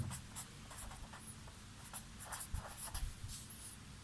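Pen scratching across paper during a 10th-class mathematics lesson, a steady close scribble of short strokes under low room hiss.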